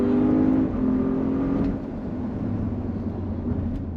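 A Porsche Cayenne Turbo E-Hybrid SUV drives fast on a race track. Its engine roars loudly at first, eases off partway through and then settles into a steady, lower drone with no talking.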